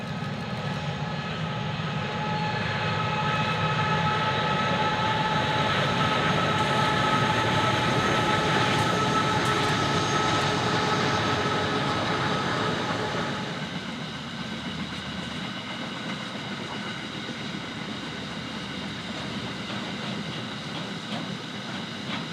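Long freight train hauled by a CF class locomotive and two QL class locomotives rolls past nearby, a steady loud rumble and wheel drone with engine hum that eases off as the consist continues by; no talk.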